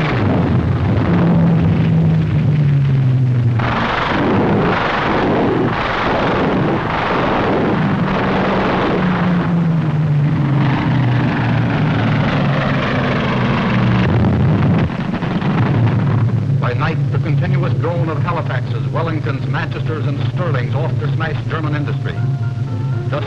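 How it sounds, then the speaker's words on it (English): Four-engine Lancaster bombers of WWII fly over in a wartime newsreel, a constant loud engine drone with rising and falling tones, while a narrator speaks over it throughout. "Huge four-engine Lancasters setting out for the heart of Germany."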